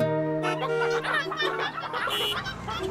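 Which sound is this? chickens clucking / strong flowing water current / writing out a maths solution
chickens clucking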